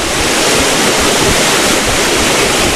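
Changey Waterfall in North Bengal, a dense, loud, steady roar of rushing water heard up close, constant with no pauses or voices.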